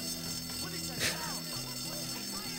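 A fire alarm in a video game rings out as it is pulled, a steady electronic alarm tone sustained throughout with a brief louder burst partway, under faint background game noise and a voice.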